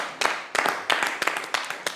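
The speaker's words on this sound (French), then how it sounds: "Est-ce qu'on peut applaudir pour eux, s'il vous plaît?" A small group of people clapping during a show honoring Côte d'Ivoire's Elephants football team, loose uneven claps in irregular bursts, close and fairly clear.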